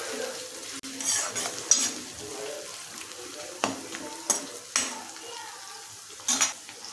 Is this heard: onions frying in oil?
yes